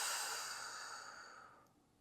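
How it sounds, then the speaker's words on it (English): A single slow, airy exhale during a gentle yoga practice, soft and close, gradually fading out over about two seconds with no talk. "Inhale and exhale."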